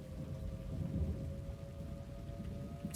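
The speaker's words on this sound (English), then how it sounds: "There's probably a decent storm on that" A thunderstorm in the storm-chasing video game Twisted, with steady rain and low thunder rumbling in the background and a faint, constant tone running beneath it.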